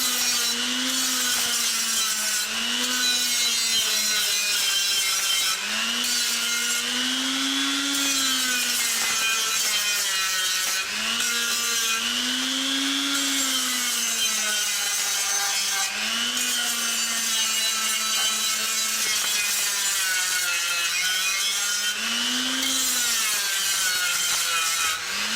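Rust being scraped and abraded off a Jaguar S-Type body part, a steady rubbing, rasping grind with rhythmic strokes that rise and fall, close and fairly loud, with no talking.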